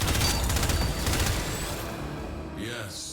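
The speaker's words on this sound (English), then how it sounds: "Who's shooting me?" Rapid gunfire rattles in the Warframe video game, a dense burst of repeated shots that fades out toward the end, with a brief tonal game sound at the close.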